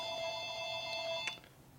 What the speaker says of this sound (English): That damn phone again.